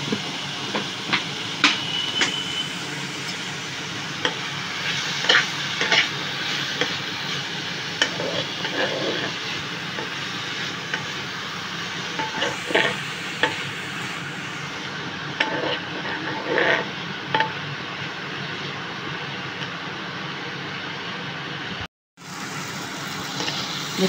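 Eggplant cooks with fish oil in a pan, giving a steady hissing sizzle dotted with small crackles and stirring sounds. The sound runs on for a long stretch, with a brief dropout near the end.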